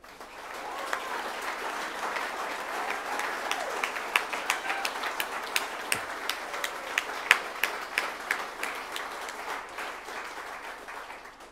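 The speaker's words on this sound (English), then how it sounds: "Can we have a big clap for master plan?" A seated audience applauds a newly presented 20-year regional tourism master plan, a steady roomful of clapping lasting over ten seconds with a few sharper individual claps standing out near the end.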